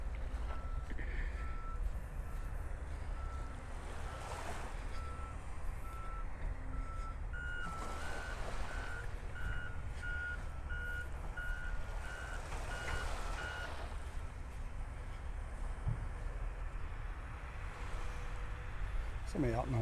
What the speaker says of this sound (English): I do hear the dump trucks coming in.